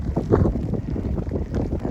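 Wind gusting across the Mount Jackson summit in the White Mountains, rough low buffeting against the microphone in uneven surges over a short stretch, no one speaking.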